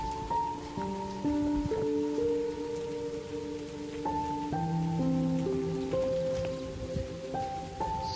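A monsoon rain shower falls on the forest at Kunderan Shindipada as a continuous, even hiss of drops, while a slow melodic tune plays clearly over it.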